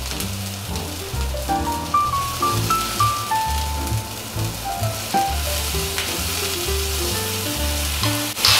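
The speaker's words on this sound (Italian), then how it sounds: "attendiamo qualche minuto che la carne finisca di cuocere" Meat sizzles in a pan on a restaurant stove, a loud, close, crackling hiss with spattering pops throughout and occasional clinks of utensils, with no speech.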